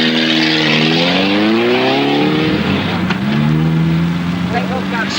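Audi rally car on a stage of the 1974 Lebanon–Syria Rally, its engine revving hard in rising sweeps through the gears before dropping to a steadier drone, close and loud with a voice talking over it.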